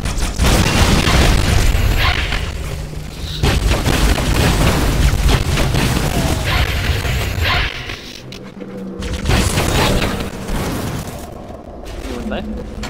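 Heavy booming grenade blasts and rumbling mechanical noise in the video game Halo 2, loud and continuous with a few dips, under a player's occasional talk.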